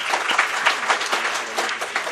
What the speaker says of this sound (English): we must give some sort of clap for him